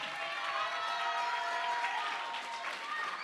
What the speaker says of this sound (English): Let's get the Most High hand clap one more time.